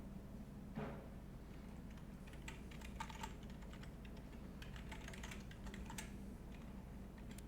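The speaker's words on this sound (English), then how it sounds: "Typing on this other keyboard, I don't know if you can hear it." Faint, soft clicking of keys on a keyboard, scattered irregular taps over a quiet background hum.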